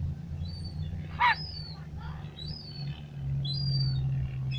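Seagulls swooping in for scraps of food outdoors near a deck give several sharp high calls spread across the moment over steady low background rumble, with a brief louder squawk near the middle.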